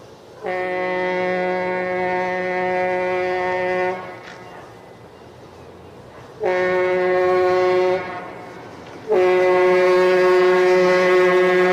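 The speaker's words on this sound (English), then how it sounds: "Most GG1s had a Leslie A200 air horn." Leslie A200 air horn on a GG1 electric locomotive sounds three loud, close blasts: a long four-second note, a shorter one, then a final sustained blast, rich and harmonic with brief quiet gaps between.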